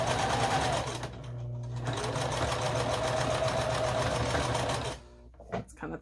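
Close, loud sewing machine stitching across a thick quilt seam in scrappy string-pieced fabric, running in steady bursts with a short slowdown near the start and stopping abruptly near the end, followed by a few small clicks.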